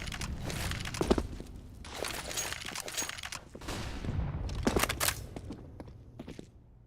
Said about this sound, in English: Flashbangs in towards middle.